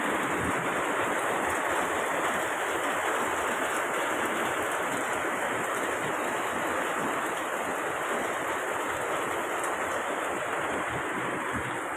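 Steady, dense hiss of heavy morning rain falling without a break in Tondo, Manila, loud and even throughout, with no voices.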